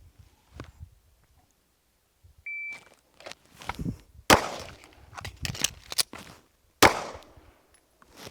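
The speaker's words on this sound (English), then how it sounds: "So buzzer sounds." A short electronic shot timer beep sounds, followed by a rapid series of sharp gunshots, loud and close, with bursts of shuffling noise between them.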